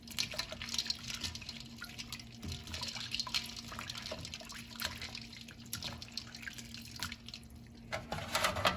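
Water runs and splashes steadily as freshly made homemade pasta goes into an ice bath to cool, a continuous close trickle with faint drips and clinks and no talk.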